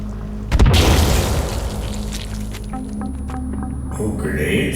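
Grenade blasts in the survival game Sons of the Forest: a loud booming explosion erupts early, followed by lingering rumble and debris-like crackle, with fainter pops and game ambience trailing after.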